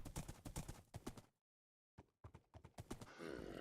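Hooves of a horse in the Minecraft modpack Sevtech Ages clop in quick bursts, loud and close, stopping for a silent half second before resuming, with a brief whoosh at the end.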